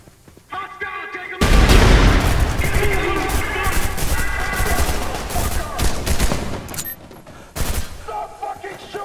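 Trepang2 video game firefight: dense automatic gunfire and explosive bursts roar loud and close for several seconds, with a brief lull and another burst near the end, while a voice shouts over it.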